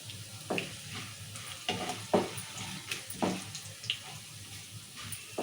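Green chillies frying in a pan for upma, a soft steady sizzle with a few sharp clinks and scrapes of stirring spaced through, close and moderately quiet, no talk.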